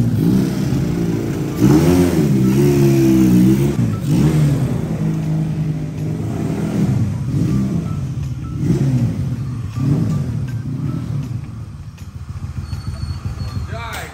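A big locally built motorcycle engine revs and idles loudly up close, its throaty rumble rising and falling steadily throughout.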